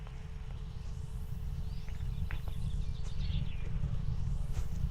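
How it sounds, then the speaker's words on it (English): Birds outside chirp faintly from a tape played in a detective video game, several short tweets and sweeping calls over a low, steady hiss and hum. "Sounds like birds. Outside."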